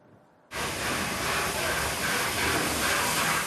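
A steam train pulls into the platform at Skipton Station, announced by a loud, steady hiss of steam that bursts in abruptly after a brief quiet moment and keeps going without a break.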